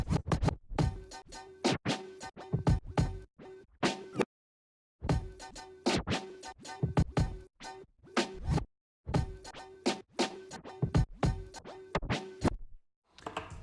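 Rapid vinyl scratching over a looping beat, sharp back-and-forth scrubs in bursts with short silent breaks, close and loud.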